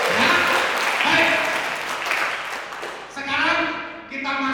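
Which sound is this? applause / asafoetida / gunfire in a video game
applause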